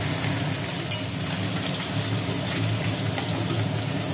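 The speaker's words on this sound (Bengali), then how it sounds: "তাহলে মাছগুলো ভাজা হচ্ছে, হোক" Small hilsa fish frying in a pan, a steady dense sizzle that runs unbroken and fairly loud throughout with no voices.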